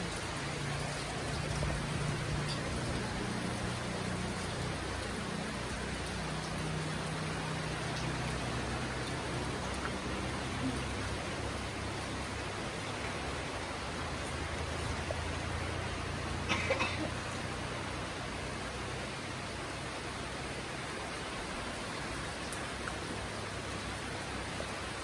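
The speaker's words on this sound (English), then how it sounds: "The rain and the wind starting to pick up even more." Steady typhoon rain hisses continuously with a constant broadband wash, wind adding a low rumble underneath, unbroken and fairly loud throughout, from Super Typhoon Odette (Rai).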